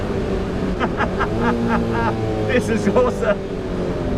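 A JDM Datsun 240Z engine revving hard to high RPM, its droning tone rising and falling under wind and road noise, with people talking excitedly over it.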